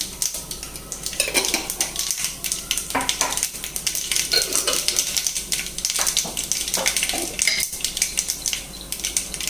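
Mustard seeds crackle and pop in hot oil in a pan, a dense scatter of sharp, close clicks and taps over a light sizzle, with a few louder metallic knocks.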